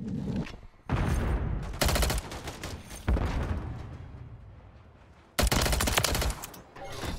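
Striker 9 submachine gun firing in Modern Warfare 3, several loud rapid bursts of automatic fire separated by short pauses and fading echoes, with no talking.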